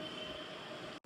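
A metro train passes with a steady rumble and a faint high whine, continuous and moderately distant, before cutting off abruptly.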